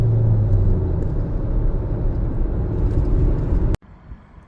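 A 2014-2017 Jeep Patriot engine drones loudly under full throttle in second gear, a steady rising rumble heard from inside the car that cuts off abruptly near the end, leaving quieter road noise.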